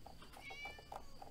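A cat meows several times in quick succession in the Sophia the Traveler game, short bright calls over faint background music.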